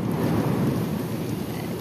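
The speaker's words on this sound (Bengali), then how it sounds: "বাবারে কেমন বাজ পড়ছে" Low rumbling thunder during a storm as rain begins, a steady broad roar with wind buffeting the microphone throughout, no clear single crack, sustained and fairly loud.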